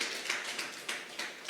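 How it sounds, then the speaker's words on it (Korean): A church congregation at a university Korean-language worship service claps in praise, a few rhythmic rounds of soft, fairly close applause with distinct beats. "우리를 빛으로 부르신 그 주님께 감사와 영광의 박수를 올리십시다"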